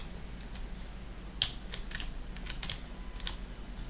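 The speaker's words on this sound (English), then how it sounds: "If I do a reset from keyboard," Several quick, sharp keystrokes on a computer keyboard enter a reset key combination, close and clicky over a faint steady hum.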